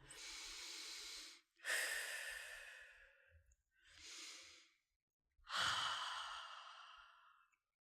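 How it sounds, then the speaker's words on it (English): Four slow, deep breaths in through the nose and out through the mouth during a calming exercise, with each airy inhale and long sighing exhale heard close and alone, separated by short pauses. "Take a deep breath in through your nose and out through your mouth."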